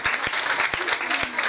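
An audience at a girls' senior grammar school seminar clapping for a speaker, a full, close burst of many hands with a few sharper individual claps standing out.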